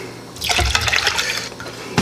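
Milk poured from a can into a pan while making cheddar mushroom pork chops, a close liquid splash and gurgle that runs steadily for over a second before a brief clink at the end.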